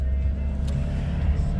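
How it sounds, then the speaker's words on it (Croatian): A car engine accelerating in first gear from a standstill up to about 2000 rpm, a steady low drone that holds loud and close through the short stretch. "čujemo po zvuku motora da se zvuk motora pojačao"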